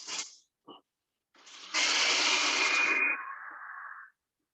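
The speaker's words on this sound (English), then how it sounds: "We're just gonna get our blender going." A blender whirs steadily for about two and a half seconds while canola oil is slowly poured in, its tone easing lower before it cuts off, preceded by a few brief clatters; no one speaks.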